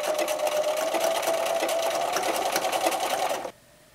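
A sewing machine runs a zigzag stitch along a fabric edge for reusable un-paper towels, whirring rapidly and steadily at close range for several seconds before stopping abruptly.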